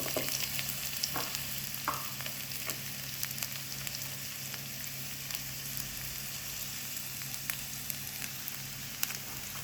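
Finely chopped onion sizzling in hot oil for an okra tempering, a constant close frying hiss with occasional crackles and light stirring scrapes.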